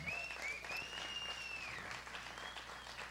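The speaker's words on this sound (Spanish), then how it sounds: "Dale un fuerte aplauso al Señor." Steady applause from a church congregation, dense clapping that fills the whole stretch at an even level, with a faint tone sliding underneath.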